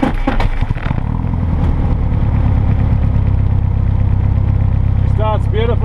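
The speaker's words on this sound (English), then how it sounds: "It starts beautifully with the dual electronic ignition from Fly EFI." A Microlight Class 2 Wittman Tailwind aircraft with dual electronic Fly EFI ignition has its engine catch with a few uneven bursts, then settle into a loud, steady, rumbling idle close by.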